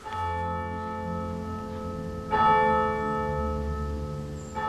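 A church bell ringing with a sustained, humming resonance, struck again partway through so the tone swells louder before slowly decaying.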